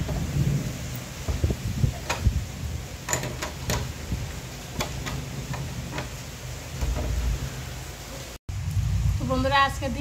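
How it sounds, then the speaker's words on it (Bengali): A heavy thunderstorm outside a house, with low thunder rumbles and steady rain under scattered clicks and taps, a voice speaking near the end after a brief cut. "এত পরিমাণে বজ্রপাত হইতেছে আর কি, এত বড় বড় বজ্রপাত বলার মতো না"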